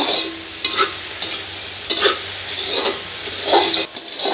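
Vegetables sautéing in a pan, a steady sizzle broken by repeated scraping strokes of a spoon stirring them, close and fairly loud with no one talking.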